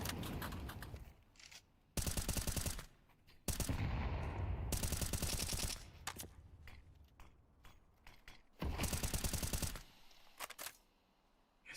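Bursts of automatic gunfire spam in a Counter-Strike esports match, several loud rapid-fire volleys separated by short gaps, no talk over them.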